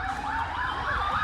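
A second fire engine goes by on a Melbourne street, its siren slightly more distant. The siren sweeps up and down in a steady, repeating wail over faint road noise.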